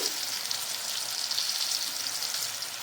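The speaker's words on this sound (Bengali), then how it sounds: "আমি আলু আর সিমটা একটু সাঁতলে নিয়েছি" Potato and flat bean pieces sauté in oil with a soft, even, continuous sizzle, fairly faint and close, with no talk over it.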